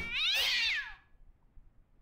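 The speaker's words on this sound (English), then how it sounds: "Oh, it was a cat." A single loud, drawn-out cat meow from the Wii game Ju-On: The Grudge, close and clear, fading into quiet low background noise.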